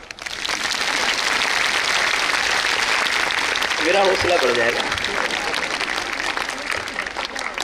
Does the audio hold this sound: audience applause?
yes